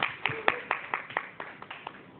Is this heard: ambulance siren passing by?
no